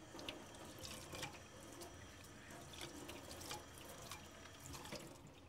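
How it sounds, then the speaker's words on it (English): Tap water runs steadily as a face shield headgear is rinsed, a continuous splashing hiss with small drips and knocks against the plastic, fairly quiet and with no voices. "We're going to rinse it"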